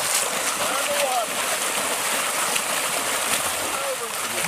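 Feet kick and splash water during army sniper school swim training, a steady churning spray of splashes running throughout, loud and close, with a voice calling out over it.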